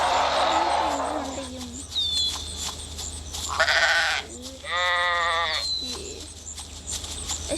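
Sheep in a wolf-hunting video game bleat in several drawn-out wavering cries, close and loud, with some short game sound effects between them.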